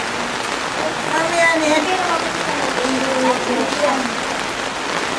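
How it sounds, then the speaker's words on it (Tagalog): Heavy rain pours steadily in a dense, hissing wash, with people talking over it. "Sige na kayo malalakas na ulan."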